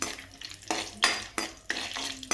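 Chopped cashews roast in a pan, stirred in repeated scraping strokes about every half second with light sizzling between them, close and clear with no talk.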